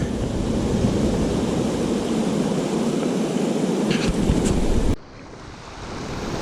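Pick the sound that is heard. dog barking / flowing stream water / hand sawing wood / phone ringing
flowing stream water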